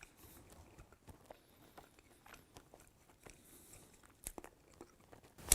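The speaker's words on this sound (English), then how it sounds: "So, let's try our bacon. Take a piece here." Homemade Canadian back bacon being bitten and chewed, soft close-up crunches and wet mouth sounds in an irregular rhythm, quiet overall, ending with a louder burst.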